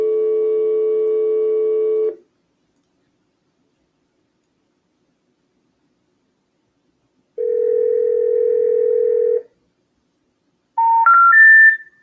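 Telephone tones during cold calling: a steady dial tone for about two seconds, silence, then another steady tone, followed by a quick rising run of dialing beeps, clear and loud with no voices.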